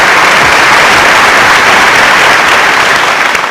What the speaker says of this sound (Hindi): प्लीज इसके लिए जोरदार तालियां।